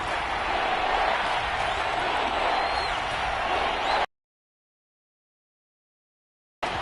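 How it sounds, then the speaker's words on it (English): Simulated stadium crowd noise from an indoor dome in a football video game, a dense steady roar that cuts out abruptly into silence for a few seconds before returning. "The crowd here in the Dome making things difficult."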